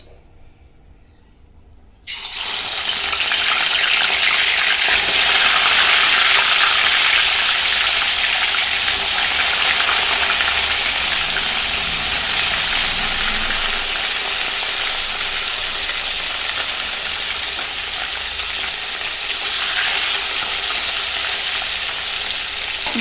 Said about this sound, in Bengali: মাছগুলো একটু লাল করে ভেজে তুলে নেব